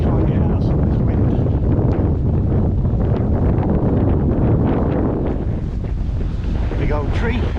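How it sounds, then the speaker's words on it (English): Strong wind buffets the microphone on the East Hills at Wells-next-the-Sea, a loud continuous roar and rumble with gusty fluctuations, and a voice faintly heard beneath it. "try and get out some of this wind"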